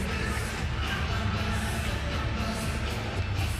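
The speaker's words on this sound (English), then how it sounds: "The crowd absolutely loving this at the National Tennis Centre" A near-capacity boxing crowd at the National Tennis Centre, during the Season 5 finals bout between Vassily Levit and Erislandy Savon, gives a steady, dense roar with no breaks.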